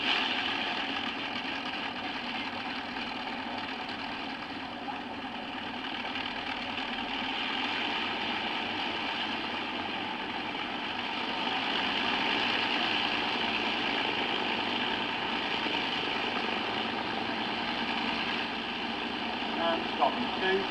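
Avro Lancaster NX611 bomber's number 3 engine, a large piston engine, runs with a steady droning rumble and buzzy whine throughout, fairly close and continuous.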